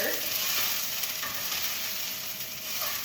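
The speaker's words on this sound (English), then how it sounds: "I'm gonna grab a pair of tongs and just give this a stir." Kale cooking in a pan and being stirred with tongs, a quiet, even sizzle with faint shifting rustles throughout, close but subdued, no one talking.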